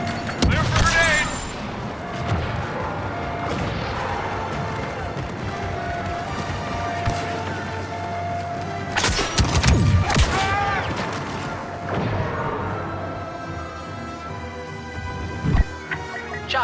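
Explosive charges detonate and a turbolaser is destroyed during a Star Wars Battlefront II match, heard as dense game battle noise with heavy booms and crashes around the middle and near the end, amid gunfire and voice callouts.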